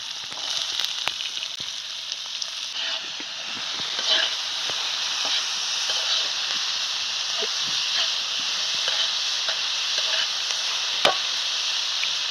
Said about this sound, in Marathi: चटणी मिरचा तळून घेतो